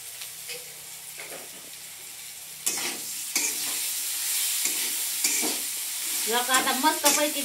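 Cluster beans (guar) frying in a pan until crisp, with a steady low sizzle under repeated scraping stir strokes and a rising bubbly crackle toward the end; no talk.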